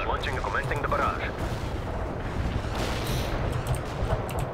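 Artillery barrage in the strategy video game World in Conflict: rumbling booms and blasts rolling through a continuous low roar, fairly loud and dense.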